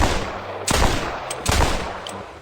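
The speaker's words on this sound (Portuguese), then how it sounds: "saca o seu revólver e dispara 4 tiros" Revolver shots in the Red Dead Redemption video game: two sharp, loud gunshot blasts about a second apart, each with a short echoing tail over faint background ambience.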